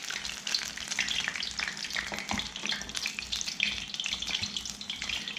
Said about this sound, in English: lay it into the oil like that